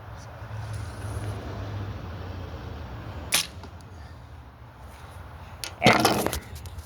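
Arrows fired from a bow strike a target at about twenty yards, two sharp impacts standing out over steady outdoor background noise, the second louder and more drawn out.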